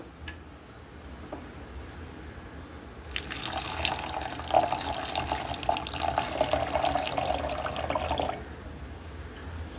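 Water poured from a tap into crushed rock sugar to soak it, a steady splashing stream running for about five seconds in a quiet kitchen, with faint drips and clicks before and after.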